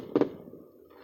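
A single distant firework bursts in the sky with a soft muffled boom, faint against quiet background noise.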